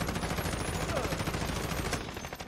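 Rapid sustained automatic gunfire from a thermal-scoped gun in Warzone, a dense rattling stream of close, loud shots with no pause.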